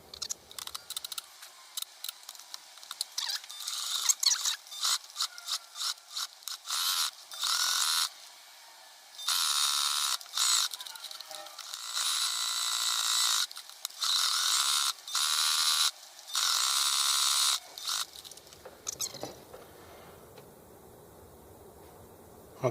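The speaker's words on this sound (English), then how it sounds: "I got this burgundy thread back in the machine, and I'm going to stitch this pillowcase up" A sewing machine threaded with burgundy thread stitches a pillowcase in rapid mechanical bursts, with short runs and longer stretches separated by pauses, close and alone with no talking.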